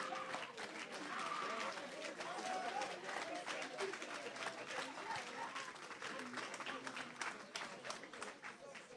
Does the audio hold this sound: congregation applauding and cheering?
yes